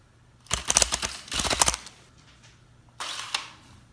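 A Super Impulse RBS toy gun fires in repeat action, letting off quick rattling bursts of sharp snapping clicks in three short runs with pauses between, close and fairly loud.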